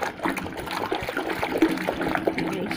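Nitrosol car wash concentrate being poured into water and stirred to dissolve it, a continuous close splashing, trickling liquid sound with gurgling texture throughout.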